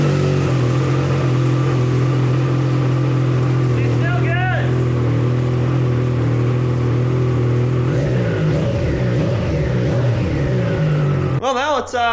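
Triumph Daytona 660 motorcycle with an aftermarket exhaust idling loudly and steadily, a deep rumbling drone with a few rising blips of revs near the middle and at the end.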